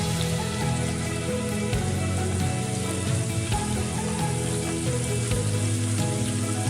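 Cashew nuts frying in hot oil while making upma give off a steady, dense sizzle that crackles evenly throughout, close and unbroken, with no talking.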